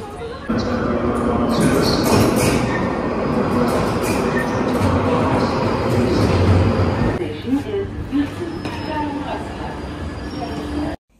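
Steady loud rumble of a London Underground train riding through a tunnel toward Euston station, with clattering and rail noise throughout and some background voices.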